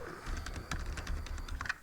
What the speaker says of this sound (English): And I'm going to type in dessert.